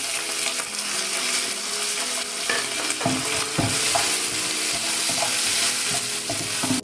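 Crushed garlic and ginger with curry leaves fry in hot oil for a Kerala prawn roast, a continuous close sizzle punctuated by scraping stirring strokes against the pan.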